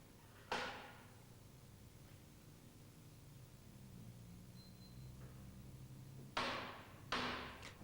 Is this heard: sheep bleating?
no